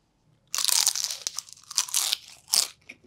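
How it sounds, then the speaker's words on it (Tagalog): Crispy siomai rice with cheese is bitten into, giving a loud close crunch followed by several sharper crackly chews in irregular bursts, with silence before the first bite. "Grabe, napakalutong talaga."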